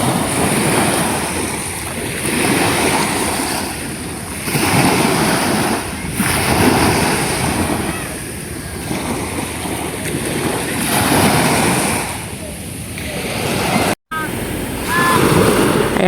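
Steady wash of surf rolling onto the shore where small boats sit, swelling and easing in slow surges, with wind buffeting the microphone and a brief dropout near the end.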